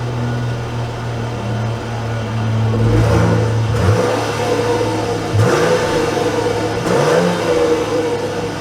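A 2021 Jeep Grand Cherokee L Overland pulls away, its engine revving up through several gear changes with rising and dipping whines, close and fairly loud and heard alone.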